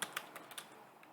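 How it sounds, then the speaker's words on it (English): Fingers type code on a computer keyboard in a quick burst of a few light, close keystrokes, then go quiet, with no voices. "I will type in a function named"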